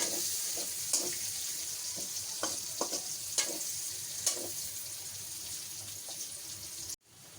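Okra frying in oil for dal, a steady close sizzle with occasional stirring clicks and spoon taps, ending in an abrupt cut and a quieter sizzle.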